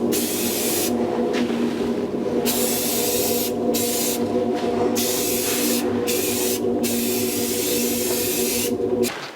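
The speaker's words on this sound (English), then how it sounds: "Here we go with 2 coats of self-etching primer." Two coats of self-etching primer sprayed from an aerosol can onto the air cleaner of a 1982 Jeep CJ7, a loud continuous hiss broken by several short pauses between passes, close up with no talking.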